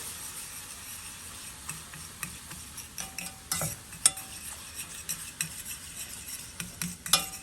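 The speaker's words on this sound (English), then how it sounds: "I'm gonna give this a good mix." A utensil stirs melted butter and flour in a pan, giving soft scraping and a light sizzle broken by irregular clinks and taps against the metal. The sounds are close and fairly quiet, and nobody speaks.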